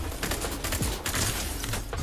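Pistol shot in a multiplayer shooter game, a sharp report ringing out amid a dense, continuous clatter of gunfire and game noise.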